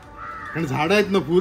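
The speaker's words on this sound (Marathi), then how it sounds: "या कावळे बघा, कावळे बाबा." Crows in a Konkan village give a couple of harsh, rasping caws near the listener, overlapping with a person talking.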